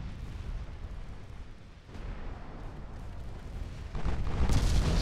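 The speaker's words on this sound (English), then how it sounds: "All guns are opening up." Warship main guns opening fire in a naval battle in Ultimate Admiral Dreadnoughts, a continuous rumbling barrage of deep booms that swells into a louder, heavier blast near the end, with no voices.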